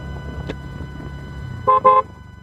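Horn of a 2022 TVS Ntorq 125 scooter sounds two short, loud beeps close by, the second slightly longer, over a low steady engine and traffic hum.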